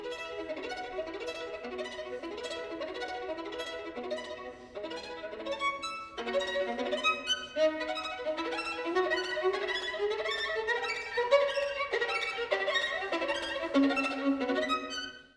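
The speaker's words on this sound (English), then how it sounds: "The third one in the row is a Ricochet Effect," Bowed strings play a ricochet effect, the bow bouncing to produce rapid repeated bursts of notes in a rhythmic, pulsing pattern that continues for about fifteen seconds at moderate volume, with no speech.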